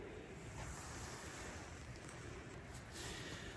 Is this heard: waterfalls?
yes